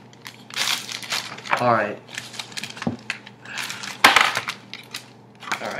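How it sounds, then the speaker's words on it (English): Plastic bags from an Xbox One console package crinkle and rustle in close, irregular bursts as they are handled during unboxing, with someone briefly talking in between. "And I'm gonna keep these plastic bags."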